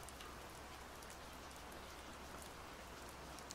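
Steady rain falls on a rainy day as a dense, even hiss of drops that stays constant throughout, with no voices.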